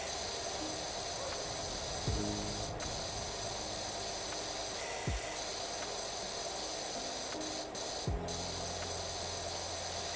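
A pressure washer nozzle spraying in a cleaning video game: a steady, fairly quiet, continuous hiss of water jet, with a few brief swooping tones and clicks, and no talking.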